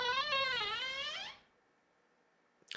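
A door in the Dream Daddy video game creaks slowly open in a long, wavering, high-pitched squeal that lasts over a second, then falls to near silence before a faint click at the end.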